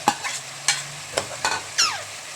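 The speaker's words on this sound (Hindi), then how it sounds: "ये हमने जीरे का भगाड़ देके उसके अंदर हमने ये मटर गाजर और आलू डाले हैं।" Peas, carrots and potatoes fry in a cumin tempering while a utensil scrapes through the pan in several short strokes over a low, steady sizzle, close and fairly loud.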